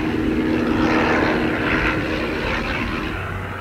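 A steady, droning Le Rhône rotary engine of a biplane hums continuously at close range, a rough buzzing roar that holds level and fades slightly toward the end.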